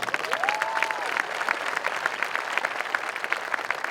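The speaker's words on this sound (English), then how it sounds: "Give yourself a round of applause." A graduation audience at a Marshfield High School Class of 2021 ceremony bursts into a dense, steady round of applause that fills the whole stretch at even loudness, with many hands clapping at once.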